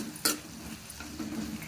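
Turmeric is stirred into ridge gourd cooking in a pan. A sharp utensil scrape against the pan comes near the start, followed by faint, soft stirring over a low background hum.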